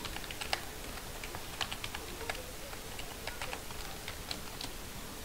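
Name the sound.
typing a password on a computer keyboard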